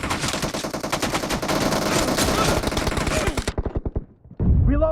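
Rapid automatic gunfire in the video game PUBG, a dense rattling burst lasting several seconds that breaks into separate, spaced shots before stopping. A brief, sharp new sound follows the short gap near the end.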